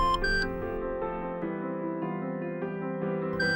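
A fingerprint scanner machine in an audio drama gives a steady electronic beep and tone as verification succeeds, a continuous layered sound with brief high chirps at the start and end.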